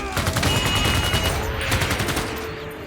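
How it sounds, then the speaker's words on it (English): A helicopter unit carries out a bombing attack in the Civilization VI strategy game, heard as a dense, loud burst of rapid gunfire-like explosions and battle effects sustained for about three seconds. "We have a helichopper here. Going to bomb you."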